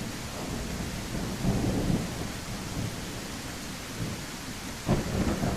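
Steady rain with rolling low rumbles of thunder from a thunderstorm, continuous broadband wash throughout with a louder rumble swelling near the end, no talking.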